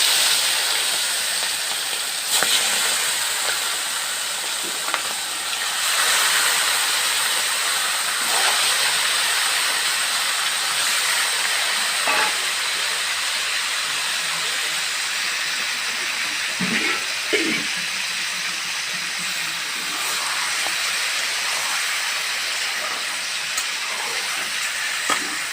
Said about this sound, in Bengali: এবারে তেলটা ভালোভাবে গরম হয়ে গেছে, আমি এবারে একটা একটা করে চিকেনটা দিয়ে দেবো।